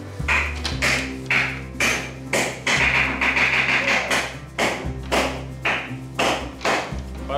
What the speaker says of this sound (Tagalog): Parang kakaiba yung pukpok nun ah